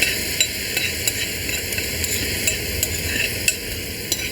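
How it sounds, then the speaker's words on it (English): Minced meat goes into a hot pot of carrots for a Bolognese-style sauce, giving a steady, loud sizzle and crackle of frying with a few scraping stir sounds, and no talking. "The carrots have sizzled away a little bit, and well, I will add now this bunch of the meat"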